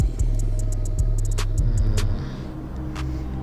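Stalled traffic on the steep uphill road at Lembah Anai, with idling car engines rumbling low and close, a steady hum that eases slightly partway through, and faint ticks and clicks scattered on top.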